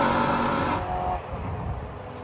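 A Mallock Mk20B race car at Oulton Park heading into Oulton corner, its engine a loud, close, buzzing drone that drops in pitch and fades as it passes, with no voices over it.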